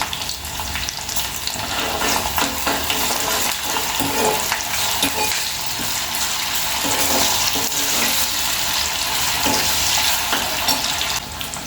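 Ginger paste with coriander and a pinch of turmeric fries in a pan alongside ridge gourd, a dense close sizzle with stirring scrapes and wet bubbling throughout, loud and steady with no talking.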